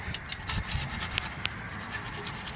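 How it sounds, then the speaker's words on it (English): An old bottle brush scrubs the hard-to-reach parts of a bike drivetrain with steady, close rubbing strokes and a couple of sharper scrapes, no voices. "There's not a really good way to get in this area, so I actually use an old bottle brush"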